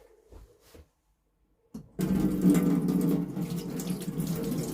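After a few quiet handling knocks and a brief pause, a tap is opened and water gushes steadily into a sink in a train compartment, close and loud.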